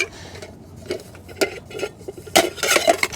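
Metal camping cook pots, one big and one small, clinking and clattering together up close, with scattered light knocks building to a busier burst of rattling near the end.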